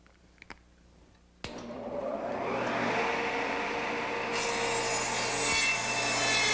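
A couple of soft knocks, then a power saw starts abruptly and whines steadily through wood, rising slightly in pitch as the cut continues.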